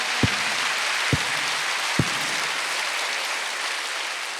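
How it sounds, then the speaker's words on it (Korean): A congregation applauds during a Wednesday church service, a steady wash of clapping with a few sharp low thumps early on. "박수로 받으세요"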